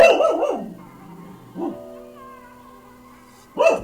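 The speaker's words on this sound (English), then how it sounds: "My neighbors keep going in and out and making my dog bark." A dog barks close by in a few sharp bursts: a quick cluster at the start, one lone bark in the middle, and another at the end.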